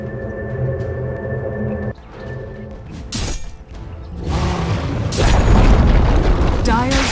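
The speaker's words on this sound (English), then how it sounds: "Dire's top tower is under attack." Dota 2 tower under attack during an ESL One 2015 match: booming impacts, whooshes and crashing effects build into a loud, dense battle roar, with game announcer voice lines over it.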